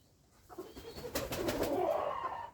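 A young male light-grey pigeon coos close by, a single rising, rolling coo swelling in loudness over about two seconds after a quiet start.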